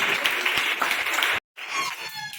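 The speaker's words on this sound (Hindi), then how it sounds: "ताली बजा के हालेलुया।" Hands clapping together in a church congregation during a fasting prayer meeting, a dense steady burst of applause that cuts off abruptly, then resumes more thinly toward the end.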